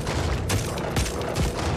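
Rapid gunfire from a weapon in the action game Just Cause 4, a dense burst of several sharp cracks over a continuous noisy background, loud and close.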